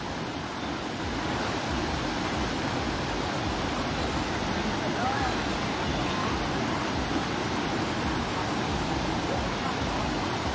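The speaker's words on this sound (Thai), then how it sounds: "ตรงนี้เรียกว่าน้ำตกดงพญาเย็น" Dong Phaya Yen waterfall and its stream pour in a steady, loud, broadband rush, with constant close water noise filling the whole stretch and no voices.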